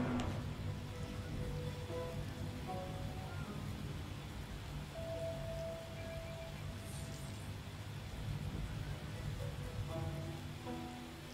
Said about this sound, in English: It's raining in SimWorld.